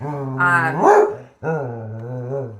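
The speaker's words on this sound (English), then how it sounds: "We're trying to avoid the dogs from getting loud" A dog's loud, drawn-out vocalization close by, a sustained whine or howl-like bark that rises in pitch, breaks off briefly, then continues in a second long call.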